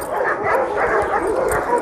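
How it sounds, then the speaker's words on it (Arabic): Excited young farm dog, about eight months old, yipping, whimpering and barking in quick bursts close by, with someone talking over it. "الكلب طبعا فرحان بالمكان هنا، ممكن يكون كان محبوس ولا حاجه"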